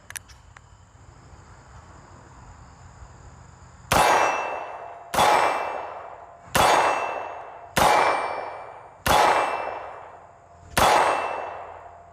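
Six loud metallic clangs from a .357 Magnum revolver hitting a steel target ring out at a steady pace, each strike ringing and decaying before the next shot, with a low hum between.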